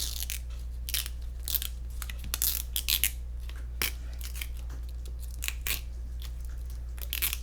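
An infusible ink transfer sheet being peeled off cotton fabric, giving a series of crisp crackling and tearing snaps close by over a constant low hum.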